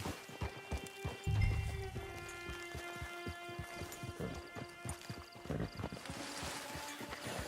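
Horse hooves in the Western video game Red Dead Online, a steady clip-clop of a walking horse at close range, even and rhythmic over a soft wind bed and a faint musical drone.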